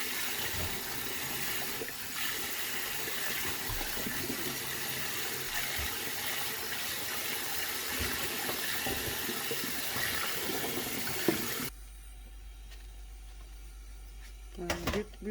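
Mugwort washed by hand under a running kitchen tap, a continuous splashing water stream lasting most of the time, then a quieter stretch with a few handling noises.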